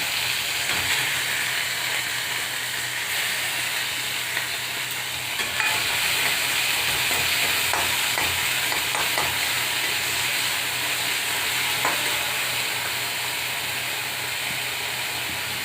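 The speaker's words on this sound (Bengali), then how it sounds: "কড়াটা ভালো গরম হয়ে গেল হ্যাঁ হয়ে গেছে বড়িগুলো আমি দিয়ে দিলাম" Sun-dried lentil dumplings (bori) fry in a well-heated pan: a constant loud sizzle and steamy hiss with scattered clicks and scrapes from stirring, and no voices.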